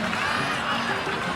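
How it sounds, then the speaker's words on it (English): A Genshin Impact crowd cheers and applauds for a young warrior in a steady, dense wash of voices and clapping that fills the whole moment. "Let's give a huge round of applause to our brave young warrior, Kachina!"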